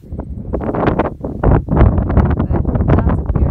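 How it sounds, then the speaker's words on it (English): Strong gusts buffet the microphone up on exposed Franconia Ridge near Mount Lafayette, a loud, irregular roar pulsing in uneven bursts with no speech. "it is super windy here"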